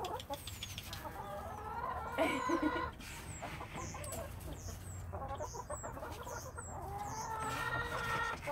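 Chickens in a garden cluck and chatter close by in a lively, continuous stream, with higher chirping calls over a steady rustling background.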